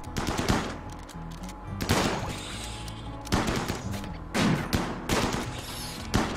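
Video game gunfire in Rimworld as colonists attack a raccoon, loud bursts of rapid automatic shooting repeating in several separate volleys, with brief pauses between them.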